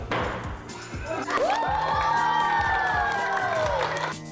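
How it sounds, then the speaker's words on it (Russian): A group of children cheer and shout in an outdoor crowd at a charity bicycle event, with rising whoops and a few dull thumps, fairly loud and lively. "Аплодисменты ребят подбадривают Никиту, и он с новой силой берет высоту."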